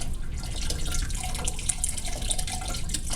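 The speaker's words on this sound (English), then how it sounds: "I'm going to dribble some water down in there." Water trickles and drips steadily into a tube, a continuous close splashing dribble with scattered droplet ticks and no speech.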